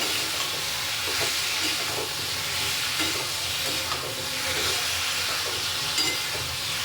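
Potatoes and fried pointed gourd in spices sizzle and fry in a pan with a constant hiss, while they are stirred with soft, irregular scraping.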